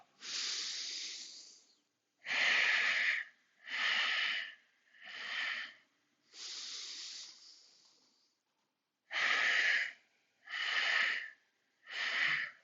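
Deep breathing exercise: a run of strong, hissing breaths through the nose or mouth comes in regular bursts about a second long, each with a short pause before the next, close and clear with no voices.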